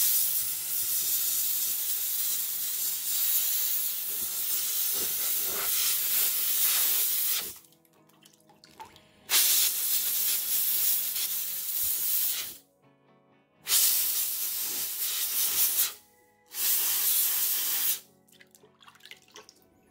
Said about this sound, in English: the steam cleaner did not work like I hoped it would